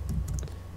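Soft, quick keystrokes tap on a computer keyboard, several clicks in close succession at close range.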